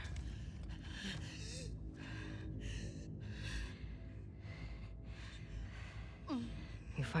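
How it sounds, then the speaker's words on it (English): Labored, strained breathing from a wounded character in The Last of Us Part II, with gasps and heavy sighs over a dense, rumbling game soundscape, ending in a sharp rising gasp. "Your breathing's worse."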